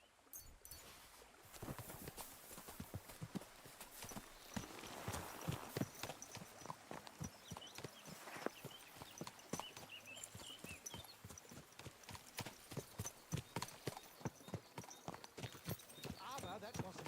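Horse hooves clip-clopping on the ground in the video game Kingdom Come Deliverance 2, a quick steady rhythm of sharp, fairly close hoof strikes running throughout while people talk.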